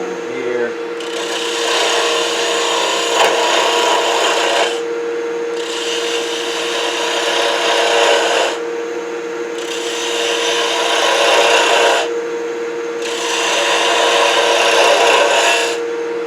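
Wood spinning on a lathe is shaped into a cone, with the motor's steady hum under four long, loud rasping gouge passes separated by short lulls.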